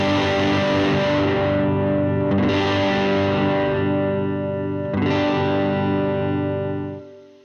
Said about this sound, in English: when I dial it back to 0, we're left with that warm, muddy sound. And then as I dial it up, we've got a bit of a brighter sound coming through